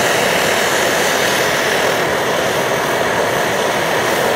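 An Optimus Hiker+ camping stove burns with a loud, steady, close roar of blue flame, a dense continuous rush with no pauses and no voices.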